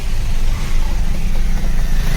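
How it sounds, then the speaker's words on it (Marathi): Road traffic in a traffic jam, a loud steady engine rumble with occasional revving from cars nearby, continuous and close without speech. "हे बघा ही ट्रॅफिक कधी पोचू आम्ही"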